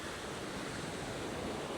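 Ocean waves wash steadily onto a beach in Da Nang, a continuous broad roar of surf mixed with wind buffeting the microphone, with no voices.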